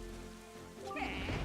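Steady rain falls in The Legend of Zelda: Wind Waker HD, a continuous wash of patter that swells louder partway through, with no voices over it.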